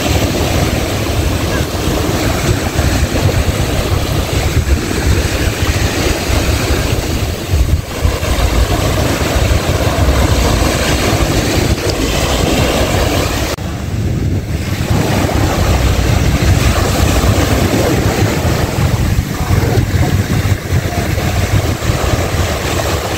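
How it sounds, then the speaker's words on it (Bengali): A rented boat is being driven off Maafushi island in the Maldives, its engine a steady broadband roar blended with wind buffeting the microphone and rushing water, constant and loud throughout with no talk. "এখন বোট চালাচ্ছি মাহফুজি আইল্যান্ডে।"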